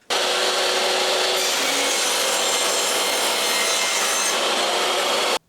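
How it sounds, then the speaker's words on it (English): A table saw cuts 45-degree mitres along oak floorboards, giving a loud, steady broadband whine of blade through hardwood that holds for about five seconds before stopping abruptly. "put the normal blade in, and then we're going to cut some mitres"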